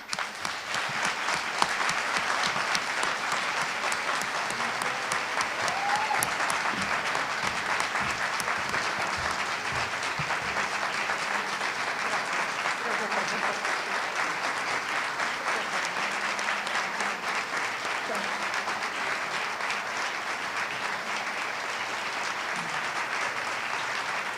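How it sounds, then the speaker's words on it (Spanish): A large audience claps loudly and steadily at a Spanish-language panel discussion on sustainable development goals and service-learning, a dense, even round of applause lasting over twenty seconds. "ese aplauso fuerte para Manu"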